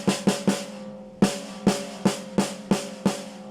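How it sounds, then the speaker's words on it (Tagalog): A freshly tuned snare drum on a drum set is struck repeatedly, first three quick hits, a pause, then a steady run of six sharp, ringing hits close by, with no voices. "Yun, tunog snare na siya."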